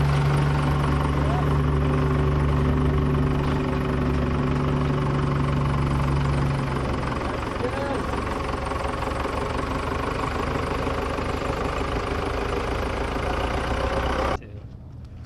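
An old wrecker tow truck's engine idles steadily with a low knocking rumble at close range, joined by a deeper drone in the first half, with voices speaking over it throughout.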